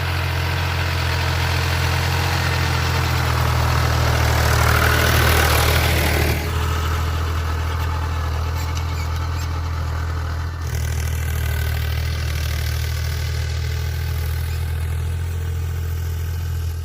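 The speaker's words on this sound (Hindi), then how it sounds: "वक्त खेत को बारीक करने के लिए ट्रैक्टर चल रहा है खेत में" A tractor engine runs steadily in a farm field as the soil is worked fine before sowing, a loud, close, continuous low-pitched diesel thrum with a brief change in tone partway through and no talk.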